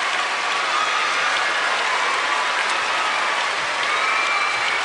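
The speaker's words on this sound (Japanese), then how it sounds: "降り注ぐ大歓声が全てを証明しています。" Dense, continuous applause with cheering from a large crowd at a figure skating free skate, sustained at an even, loud level throughout.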